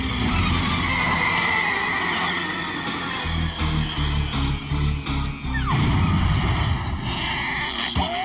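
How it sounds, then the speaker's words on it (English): Cartoon spaceship crash landing back onto a planet: a loud, steady roaring engine rush with skidding screeches, a falling whistle tone, and rumbling impacts building near the end. "Assuming we survive the crash landing back onto the planet."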